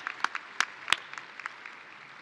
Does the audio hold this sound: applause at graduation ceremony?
yes